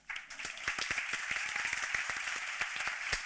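A lone person claps steadily at a panel event for International Women's Day, the sharp individual hand claps repeating at an irregular pace for a few seconds over a soft room background, fairly close and with no voices.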